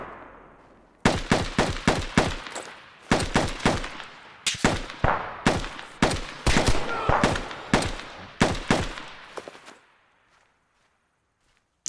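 Rapid, loud bursts of gunfire from an ambush on a hillside in ArmA 3 Antistasi, with irregular single shots and short volleys cracking over roughly ten seconds before fading to quiet.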